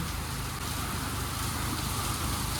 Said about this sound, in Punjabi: ਮੀਂਹ ਬਹੁਤ ਜ਼ਿਆਦਾ ਤੇਜ਼ ਆ ਗਿਆ ਜੀ